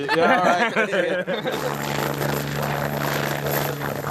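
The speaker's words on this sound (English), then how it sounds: "I do think a helicopter is going to land in a minute" Helicopter heard over a podcast conversation, a steady rotor and engine drone rising behind voices and continuing alone once the talking stops.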